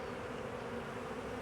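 Honeybees at an opened hive give a dense, even buzz with a steady hum, continuous and fairly close, no voices.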